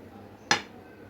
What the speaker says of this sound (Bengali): দিচ্ছি একটি ডিম।